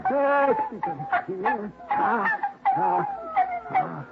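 Several high, wavering whimpers and yips from young puppies, close and overlapping in short bursts.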